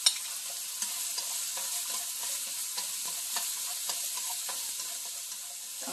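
Salted, drained cucumber slices stir-fry in a hot pan for fried rice, giving a continuous close sizzle broken by light, irregular scraping ticks from stirring.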